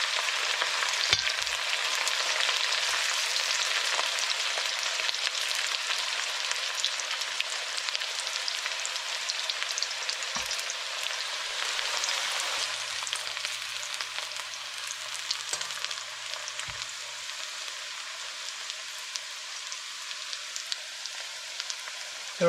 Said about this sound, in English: We're going to fry this up a bit.